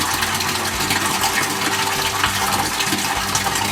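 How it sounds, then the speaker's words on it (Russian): Water rushes steadily from a partly opened tap as pressure is bled off a pump system with a small 5-litre pressure tank, a continuous loud hissing flow with no talk. "Дальше мы тихонечко приоткрываем кран, начинаем стравливать давление."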